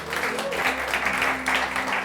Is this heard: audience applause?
yes